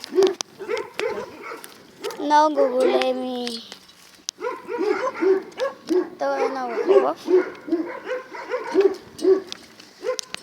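Several dogs in a kennel give short yips, barks and high whimpering whines in bursts, close and fairly loud, while people talk over them.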